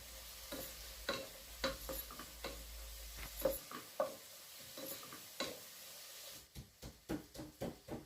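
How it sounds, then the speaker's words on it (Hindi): Cumin and onions frying in a pan at home, a soft sizzle under repeated clicks and scrapes of a spoon stirring, the taps growing sharper and more rhythmic toward the end. "और ये अब मैंने ज़ीरा डाल दिया और प्याज को थोड़ा सा गोल्डन होने दूँगी।"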